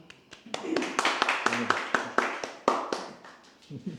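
A small group claps at a podcast recording, a sparse run of distinct, close hand claps that builds and then thins out, with a voice briefly heard near the end.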